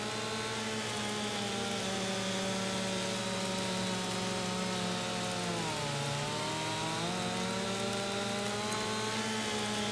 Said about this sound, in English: we're going to chop down trees